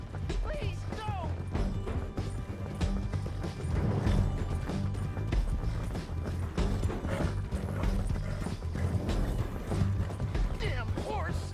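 Horse hooves clip-clop in a busy, cluttered scene in Red Dead Redemption 2, with a neigh, creaking and mechanical clatter layered over a low rumble and voices.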